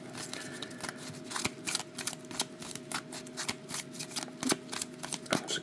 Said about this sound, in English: That's a good shuffle.